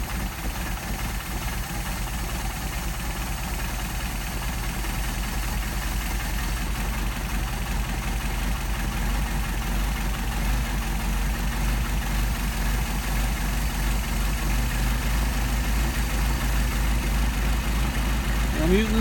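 An engine fitted with a Solex carburetor idles low around 400 RPM, a continuous even rumble with a faint rhythmic pulse that holds steady throughout, with someone speaking over it at times.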